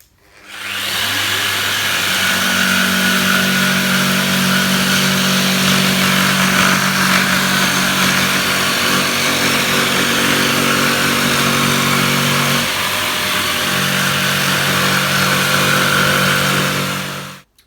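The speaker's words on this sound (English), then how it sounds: "all I've done is cut that with a jigsaw" A jigsaw with a sharp blade cuts steadily along a scribed line, a loud continuous buzzing whine close by that holds for about fifteen seconds with a slight pitch change partway through, no speech.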